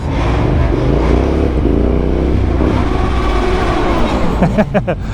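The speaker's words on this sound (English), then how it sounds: "The screaming bikes, you can hear them from a mile off." Loud motorcycle engines roar and rev steadily close by at night in London, with rising and falling pitch as bikes pass, ending in a few sharp throttle blips.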